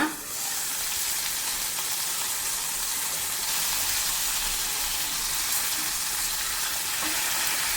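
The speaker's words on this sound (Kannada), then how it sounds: "ಮೀನನ್ನು ಕಾಯಲಿಕ್ಕೆ ಹಾಕುವಾಗ ಎಣ್ಣೆ ಬಿಸಿಯಾದ ಮೇಲೆ ಹಾಕಿ, ಆವಾಗ ಮೀನು ಚೆನ್ನಾಗಿ ತವಕ್ಕೆ ಹಿಡಿಯಲ್ಲ" Mackerel pieces frying in hot oil in a pan for a coastal masala fry, a dense, even sizzle that holds steady and close for the whole stretch with no talking.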